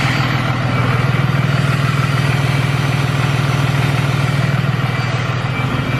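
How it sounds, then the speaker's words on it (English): A new Cummins diesel truck engine idles with a loud exhaust, a deep, steady, throbbing rumble close by that holds without letup. "Obviously the exhaust is really loud right now, but you can't even hear the clutch when the fluid is cold."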